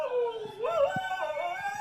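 A dog howls in a long, wavering, sung tone that rises and falls in pitch, close and clear, with a few soft clicks and small noises beneath it.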